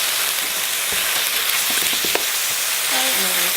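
Chili jam and sauces fry in a hot wok with a dense, steady sizzle and scattered crackles and pops up close. A brief faint tonal sound enters near the end.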